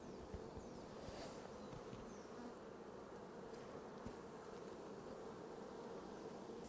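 Honey bees buzz steadily at the hive, a dense, continuous drone that is close and fairly quiet, with no voices over it.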